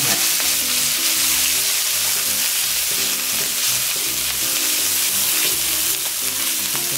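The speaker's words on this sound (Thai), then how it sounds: "คนน้ำมันหอม" Fragrant oil sizzles and fries in a pan as it is stirred for Thai beef nam ngiao, a loud, dense, continuous crackle with rhythmic scraping of the utensil, no speech.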